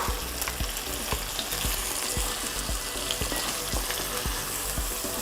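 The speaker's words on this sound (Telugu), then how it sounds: "ఈ మటన్ కూడా బాగా ఫ్రై అయిన తర్వాత దీంట్లో వేసేసాను మసాలా అంతా." Village-style mutton curry on the stove: mutton frying with a ground paste of cumin, coriander, poppy seeds and dried red chillies gives a steady close sizzle, broken by repeated scraping stir strokes at a fairly even rhythm, with no voices.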